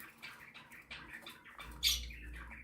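Bourke parakeet nestlings give a run of short, faint squawks and chirps in a nest box during a check, with one sharper, louder call near the end.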